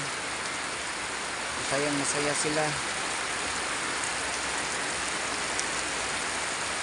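Steady heavy rain hisses loudly throughout, with a brief voice speaking under the downpour partway through.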